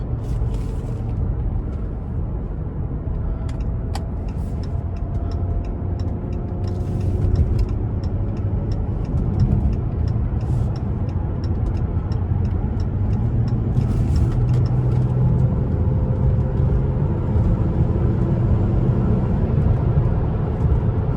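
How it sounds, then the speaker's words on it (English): Steady low engine and road rumble inside a car driving late at night on an expressway, continuous and fairly loud throughout with faint ticking clicks above it and no talking. "it feel good right now to be driving my car"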